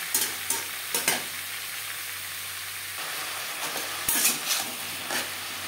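Pumpkin and flat beans frying in a pan while being stirred, a steady sizzle with a few sharper scrapes and clatters of the spoon against the pan, close and continuous with no talk.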